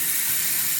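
Water rushing steadily from a Moen kitchen faucet with a stripped handle, a loud, close, continuous hiss with no pauses or talking.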